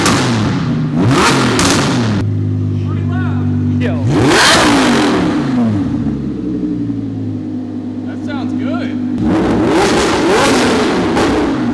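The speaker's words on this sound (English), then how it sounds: "So we're gonna get a little baby rev" Audi R8 engine with a newly installed aftermarket exhaust revving in a few loud blips, harmonics rising and falling, while people talk and react over it close by.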